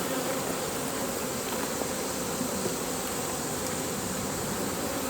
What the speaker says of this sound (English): There's quite a bit of bees up there.